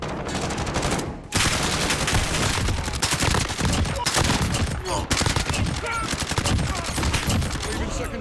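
GRAU 5.56 assault rifle fire in Call of Duty: Modern Warfare, dense sustained automatic bursts filling the clip with only a short break, loud and continuous.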